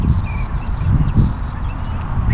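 Birds chirp around a Bumblebee Transformers statue: two bright, sharp chirping calls about a second apart ring out over a steady low outdoor rumble, with no talking.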